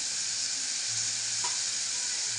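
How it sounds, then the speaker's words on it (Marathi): Malvani masala hits hot oil with a constant hissing sizzle, a short, fairly quiet, even crackle with one faint knock midway and no voices. "मालवणी मसाला टाकून घेते मी आता"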